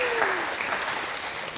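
An audience applauds steadily at a panel on African women leaders, the dense clapping filling the room as a speaking voice trails off at the start.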